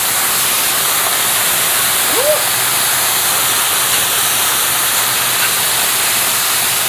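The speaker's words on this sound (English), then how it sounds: "now we're going to add water to steam," Water poured into a hot pan of celery during a vegetable and tofu stir-fry sends up a loud, steady rush of steam and sizzle that holds for several seconds, with no talk over it.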